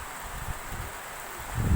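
Strong wind roars and rushes steadily at a pigeon racing club release, with a dense rustling hiss and a gusty low buffeting that swells toward the end.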